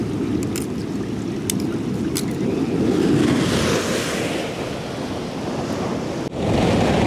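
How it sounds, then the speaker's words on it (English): Ocean surf rushes onto a rocky shore at low tide with big swells, a steady broad roar of breaking waves up close, mixed with gusty wind buffeting the microphone and no talking. "The waves just come rushing in."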